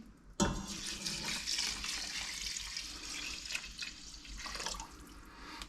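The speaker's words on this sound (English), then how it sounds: "After the rice, I'm going to add the yakhni." Yakhni stock poured into a pot of rice for pilau, a steady close liquid splash and gurgle that starts abruptly and continues throughout with no talking.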